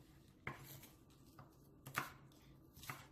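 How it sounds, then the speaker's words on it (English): A knife chops through already-washed scallions on a cutting board, a handful of crisp, separate knife strikes at an uneven rhythm, close and moderately loud, with no voices. "So here are some scallions that is already washed, and so I'm going to cut them"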